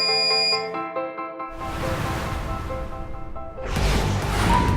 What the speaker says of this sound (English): When set time is over, as you can see, the alarm sounds and the heating process is stopped.